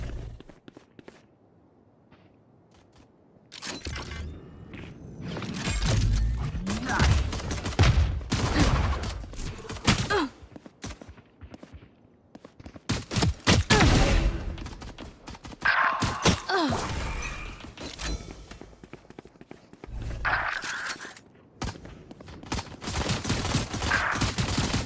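Gunfire in the video game Valorant: rapid bursts of automatic weapon fire and single shots crackle in clustered volleys, loud and close, separated by quiet gaps and mixed with footsteps and thuds.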